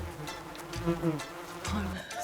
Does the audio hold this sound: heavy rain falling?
no